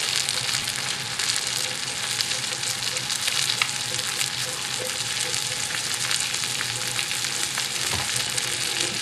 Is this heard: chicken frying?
yes